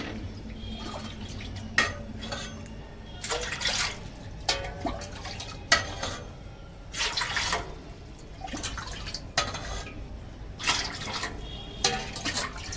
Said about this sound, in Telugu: ఇప్పుడు దీనికి వాటర్ పోసుకుందాం.